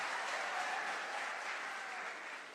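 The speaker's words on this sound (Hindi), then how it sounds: "बहुत एक जोरदार तालियों के साथ आपका स्वागत" Audience applause welcoming a professor at a youth parliament festival in Lucknow, a thick, continuous roar of clapping that holds steady and then tapers slightly at the end.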